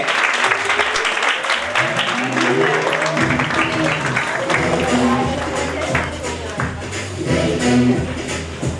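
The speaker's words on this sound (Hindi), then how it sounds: "तालियां बजती रहनी चाहिए।" Audience applause at an aromatherapy skincare class in Hisar, welcoming the woman leading the session; steady clapping fills the room throughout, with voices talking over it.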